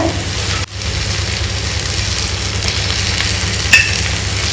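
Tomatoes simmer over low heat with salt for Telangana-style tomato dal, giving a steady, close sizzle and bubbling hiss with a brief stir and a small clink partway through.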